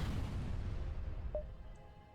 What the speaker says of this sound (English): Massive explosion emanates from the rock ship, shattering its hull